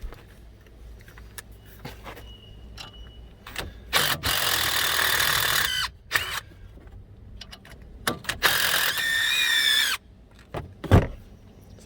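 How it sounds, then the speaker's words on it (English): On a 2005-2010 Mk5 Jetta, an impact gun loosens the front brake bolts in two loud, sustained bursts of buzzing hammering, with clanks and knocks from handling the tool and parts between them. "This is where I'm going to use my impact gun."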